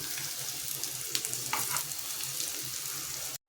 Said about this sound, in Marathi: डीप फ्राय नाही करायचं, शॅलो फ्राय करूया